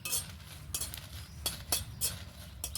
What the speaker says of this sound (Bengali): এবারে এগুলো ভেজে লঙ্কাগুলো দেব। লঙ্কাগুলো দেওয়ার পর হালকা আছে একটু নেড়ে চেড়ে নেব।